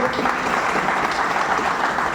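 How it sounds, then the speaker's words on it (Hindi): Steady, dense applause from a crowd in a meeting hall, loud and continuous for the whole short stretch. "उनके लिए दोस्त एक बार जोरदार ताली होनी चाहिए"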